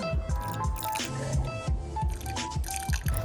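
Hot water poured from a water dispenser onto brown sugar for homemade bubble tea, giving a close, wet gurgling and dripping pour with uneven bubbly splashes that runs for about three seconds without talk.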